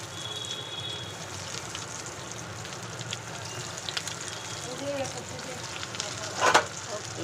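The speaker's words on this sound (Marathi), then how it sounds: "तर हे पण आता मी फ्राय करून घेते फटाफट" Cheese corn balls frying in hot oil produce a soft, continuous bubbling sizzle, with occasional pops and a brief louder clatter near the end.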